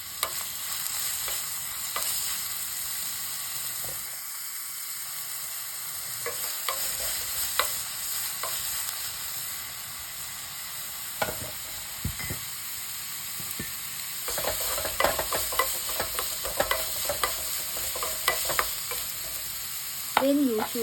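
Chopped onion being stirred and fried in a pan, a steady close sizzle with frequent scraping and clicking strokes of a utensil, growing busier in the second half, and no talking.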